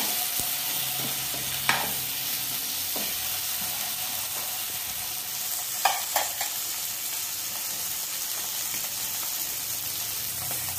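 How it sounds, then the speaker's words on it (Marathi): Marinated fish sautéing on onions in a pan gives a steady, soft sizzle with a few sharp clinks of stirring, with no one talking. "हे फिश जे मॅरिनेट करून ठेवले होते ते आता व्यवस्थित कांद्यावर परतून"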